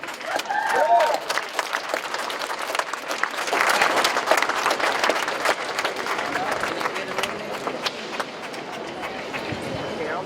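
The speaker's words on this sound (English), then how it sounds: "Give them another round of applause if you could" Crowd applause at a gubernatorial event restoring voting rights, a dense, sustained roar of many hands clapping, loud and steady, slowly tapering, with voices and cheers underneath.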